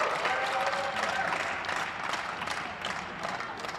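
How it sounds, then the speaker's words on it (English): Spectators on their feet applauding at a men's singles gold medal match of a pickleball open, steady clapping throughout that eases slightly toward the end. "And the crowd is on their feet."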